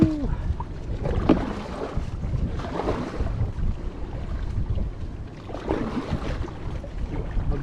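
A small boat moving across water in wind, with steady rushing wind buffeting the microphone and washing water throughout, nearby and fairly loud.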